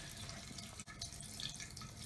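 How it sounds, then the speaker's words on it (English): Water steadily draining from a copper plumbing line at the bottom of a house, a continuous close trickle and rush with a brief dip partway through. "still draining a little bit of water"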